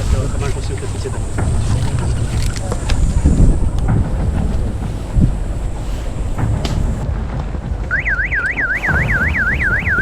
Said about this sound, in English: The officers set off alarms simulating tripwires which would potentially be rigged to explosives.